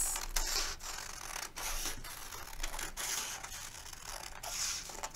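Scissors snip through paper to cut out a box, with repeated close crisp cuts and rustling of the sheet in an irregular rhythm, and no voice during the cutting.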